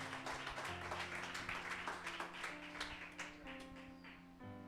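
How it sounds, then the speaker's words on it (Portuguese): A church congregation breaks into applause, a sustained spread of clapping under sung or spoken tones and music, quiet and somewhat distant. "Dê um aplauso a Jesus"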